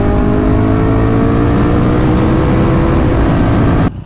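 A KTM 1290 Super Duke twin-cylinder motorcycle engine burbling at low RPM, a loud, steady, throaty drone close by that holds for about four seconds before cutting off abruptly, with no voices.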